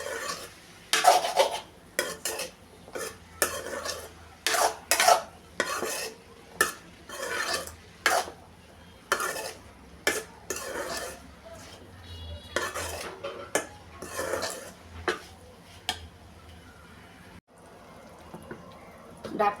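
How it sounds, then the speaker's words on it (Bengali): Flat beans with chopped green chillies being sautéed in a pan: repeated scraping and clanking stirring strokes come in irregular bursts, with a faint sizzle beneath and no clear talk. "ভালোভাবে সব কিছু দিয়ে কষিয়ে নিচ্ছি।"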